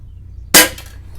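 A single sharp crack from an Umarex Colt Defender CO2 BB pistol firing 4.5 mm BBs, loud and close, with a brief ringing tail fading into quiet.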